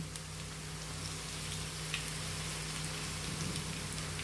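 Moringa leaf bajji batter frying in sunflower oil, a steady dense crackle and hiss that carries on evenly throughout with no voice over it.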